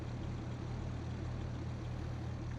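A tractor engine in a farming game idles steadily with a low, even rumble and a constant hum, with no talk.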